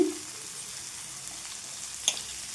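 Chopped coriander leaves sizzle and fry softly in a pan while being cooked down for chutney, with a brief clatter of stirring near the end.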